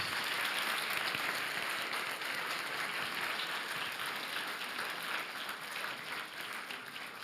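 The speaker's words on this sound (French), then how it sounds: "je crois qu'on peut les applaudir en effet." A crowd at a doctoral graduation ceremony applauds the professors, a continuous even roar of many clapping hands that holds steady throughout, full and somewhat distant in a large hall.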